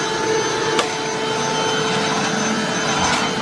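A vacuum cleaner runs in a home laundry room with a loud, steady, close whooshing drone and a faint tick partway through.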